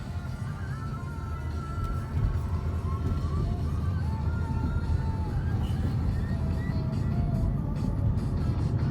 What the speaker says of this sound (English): we're gonna go for a little test drive and see how this does